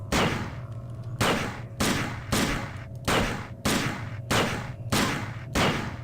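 Rhythmic bursts of gunfire in the video game System Shock 2, about ten sharp shots spaced roughly half a second apart, each with a short ringing tail, loud and close with no talk over them.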